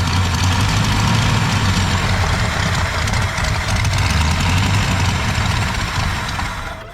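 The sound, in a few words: 1965 Ford Galaxie 500 engine idling roughly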